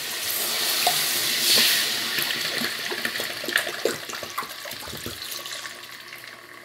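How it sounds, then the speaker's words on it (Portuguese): Grape juice pours steadily into a pot for quentão, a close, loud rushing splash that gradually settles into gurgling and trickling, with no talk over it. "E agora nós vamos começar a colocar o suco de uva."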